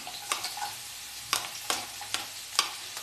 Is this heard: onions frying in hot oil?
yes